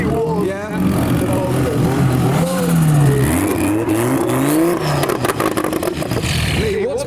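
A Ford Focus engine revs on an English street during a boy racer takeover. It is loud and close, with rising and falling pitch sweeps, and people talk over it throughout.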